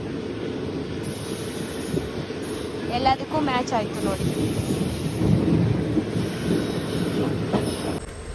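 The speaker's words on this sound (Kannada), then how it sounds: "ನಮ್ಮ ಟ್ರೈನ್ ಮೂವ್ ಆಗಿತ್ತು." A passenger train rolls along the rails near Guntakal Junction, a steady low rumble and clatter with brief wheel squeals, heard from inside as someone talks over it.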